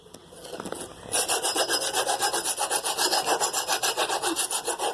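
The flats of a rusty U-joint shaft from a 2nd gen Ram 1500 are cleaned up with rapid rhythmic rasping strokes, close and steady, after a quieter start.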